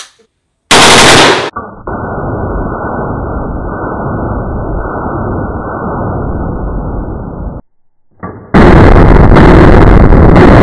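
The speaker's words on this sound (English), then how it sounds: "What we can offer here at Puerto Galera Outdoor Firing Range, we have the small guns and the long guns." Gunfire rings out at an outdoor firing range in the jungle: a sharp blast, then a long, loud, sustained automatic burst lasting several seconds, a brief pause and another shot, followed by further heavy firing at close range.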